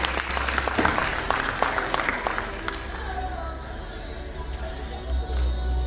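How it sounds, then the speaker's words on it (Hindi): Audience applause at the opening of the 5th Haryana International Film Festival at the Multi Art Centre in Kurukshetra: dense clapping, strongest in the first few seconds, then thinning into a steady, softer patter with a faint murmur underneath. "तालियों के साथ एक बार फिर से"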